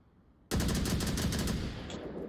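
A burst of rapid automatic gunfire erupts after a quiet half second in the VR shooter Onward, loud and close, then continues as sustained rattling that fades slightly toward the end.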